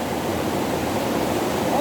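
A waterfall beside the road between Madureira and Nova Iguaçu roars as a steady, dense rush of falling water, loud and close, unbroken for the whole short stretch.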